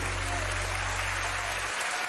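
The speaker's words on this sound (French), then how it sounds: "Je veux qu'on t'applaudisse encore" A television studio audience breaks into loud, continuous applause, a dense hiss of many hands clapping together, steady and near for a couple of seconds, with a low hum fading out partway through.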